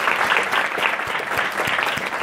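Audience applause at a mindfulness lecture event, a dense, steady patter of many hands clapping together at even loudness throughout, with no voices on top.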